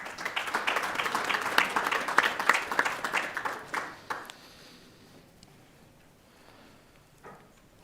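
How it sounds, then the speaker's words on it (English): An audience at a finance and banking regulation panel claps warmly for the panelists. The steady applause lasts about four seconds, then thins out and fades into near silence. "round of applause for the panelists"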